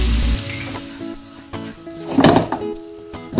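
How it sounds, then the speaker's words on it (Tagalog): Garlic sautéing in oil in a pan for a buttered garlic crab recipe: a soft, steady sizzle with a few clunks of a utensil against the pan, and a brief loud burst of frying. "Then yung garlic. Sautay lang natin hanggang sa mag-medium brown."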